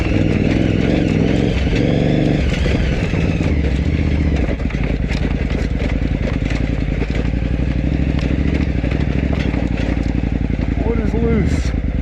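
KTM adventure motorcycle engine running hard through rough off-road terrain during the 2019 KTM Adventure Rally, a steady loud droning roar throughout with jolts and rattles, people talking over it.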